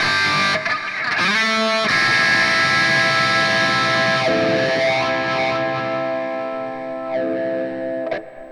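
A distorted electric guitar through a Hotone Ampero mini plays sustained notes with a sweeping wah effect, the tone rising and falling, ending with a few short plucks.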